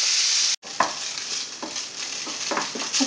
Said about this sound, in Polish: na który wrzucam mięso, które będzie się smażyć na razie 6 minut